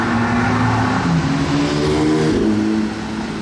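A Black Series sports car roars past on a street with a loud, steady engine note, its pitch shifting as it goes by and then fading slightly.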